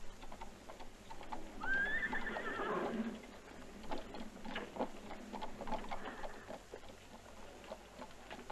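A horse neighs loudly nearby with a rising whinny, followed by scattered hoof clops and movement on a street, fairly quiet apart from the call.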